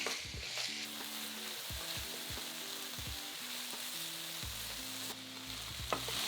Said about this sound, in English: It's a good idea to do this bit in 2 batches so you get nice even browning on the beef.